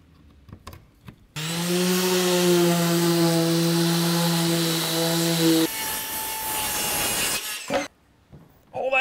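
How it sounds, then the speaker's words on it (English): Sanding a rough piece of plywood by hand, heard as a loud continuous rasping scrape close up for several seconds, changing tone partway through before it stops. "This piece of plywood is just a little rough, unlike this nicer piece of wood, so I'm just gonna sand it real,"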